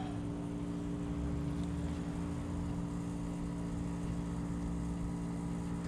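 Air compressor running steadily as air bags fill on the suspension of a GMC 2500HD AT4X AEV pickup, a continuous droning hum at constant level with no talk.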